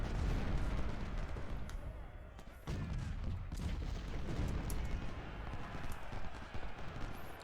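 Musket volleys and artillery fire from a Civil War battle in Ultimate General Civil War at Gaines' Mill, a dense continuous rumble of gunfire with scattered sharper shots, steady throughout.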